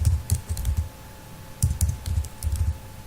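Java code being typed on a computer keyboard: quick clusters of close, crisp key clicks with brief pauses between bursts, no talking over it.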